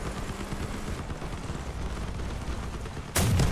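Weapons fire in the vehicle combat game Crossout, a sudden loud burst that erupts at the end after a stretch of steady engine and battle rumble.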